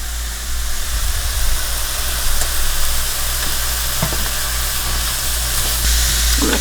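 Mushrooms sizzle in a pan for a chicken cauliflower casserole, a steady close hiss of frying running throughout, with faint clicks of a utensil and no speech.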